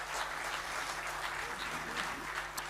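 Audience clapping fills an auditorium at a poetry gathering, a steady dense wash of applause from many hands lasting throughout, with faint voices underneath.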